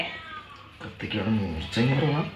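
A cat meows twice, drawn-out and rising, close by while fish is being cut with a blunt knife; the second cry is louder and the two are separated by a short gap.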